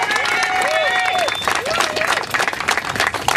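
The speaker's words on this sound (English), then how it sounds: "So let's give her a round of applause." An audience applauds loudly at a public event for 9/11 rescue workers' health care, with dense clapping, a few cheers and whistles, and voices in the crowd.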